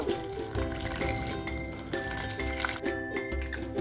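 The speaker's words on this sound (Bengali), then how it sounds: "এবার আমি জল দিয়ে ছানাটাকে ভালো করে ধুয়ে নেব" Water runs steadily from a tap over fresh chhana, cottage cheese made for chanar payesh, as it is rinsed in a tissue or cloth strainer, with occasional light clinks of a vessel throughout.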